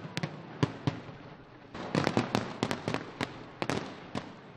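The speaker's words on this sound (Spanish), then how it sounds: "espectáculo pirotécnico" Fireworks bursting over the bay at Arrecife, Lanzarote, a rapid series of sharp cracks and booms heard from a distance, with no talk.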